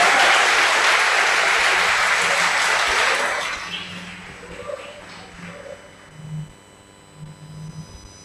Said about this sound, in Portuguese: Quantos podem dar uma salva de palmas para Jesus